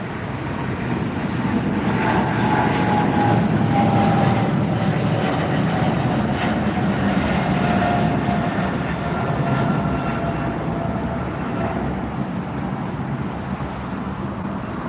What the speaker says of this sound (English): Well, we've got another departure, I believe, here.